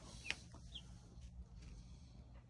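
Chickens inside a backyard coop cluck and chirp faintly, with a few short, sharp calls early on over a quiet low background.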